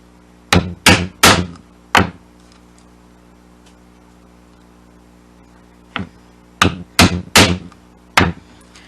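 Wooden mallet striking a chisel while hand-cutting a mortise, sharp loud knocks in two clusters of four or five blows separated by a quiet pause.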